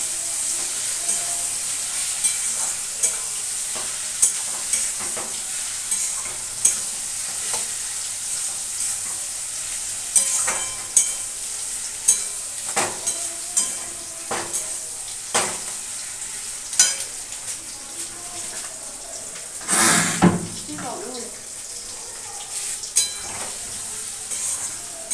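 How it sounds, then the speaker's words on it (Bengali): Turmeric and coriander spice masala sizzles steadily in a pan for a fish curry, with repeated scraping stirs and clinks of a spoon against the metal, close and clear. "মশলাটা একটু ভালো করে কষাই, ভাজা ভাজা করি, কষাই করে ভাজা ভাজা।"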